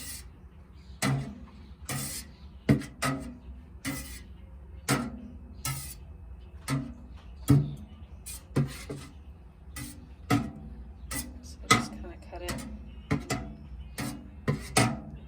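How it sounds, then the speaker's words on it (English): A knife slices a block of feta cheese curd into cubes in a crisscross pattern, giving a series of sharp, close taps and scrapes at an uneven pace. "So you're supposed to cut it like into cubes. So I'm gonna cut it."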